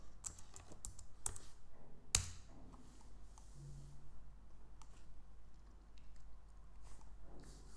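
Someone types a password on a Mac keyboard with quiet, irregular key clicks and taps over faint room hum.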